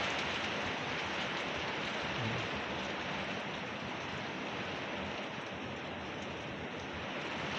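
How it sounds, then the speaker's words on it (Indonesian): Heavy rain pours steadily onto a flooded road, a dense, even hiss of downpour and splashing water with no break, moderately distant and without voices. "karena hujannya belum menunjukkan akan reda"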